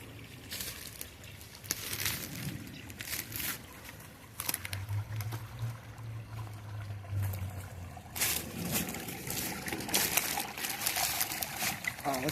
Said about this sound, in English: I found this beautiful creek.